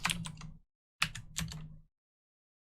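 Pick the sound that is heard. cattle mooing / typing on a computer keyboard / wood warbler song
typing on a computer keyboard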